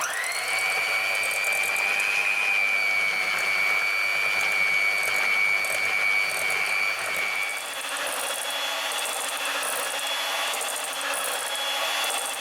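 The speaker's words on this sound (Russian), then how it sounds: "И все хорошо взбиваем миксером до пышной пены." Electric hand mixer whipping eggs with sugar into a fluffy foam, a steady high whirring motor drone that holds pitch, then drops and shifts tone partway through while continuing close and loud.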